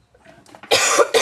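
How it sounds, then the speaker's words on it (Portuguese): A woman with a harsh, barking cough clears her throat softly, then lets out two loud, rough coughs in quick succession, close to the microphone. "Essa tosse aí, que tá parecendo uma tosse de cachorro que vai morrer."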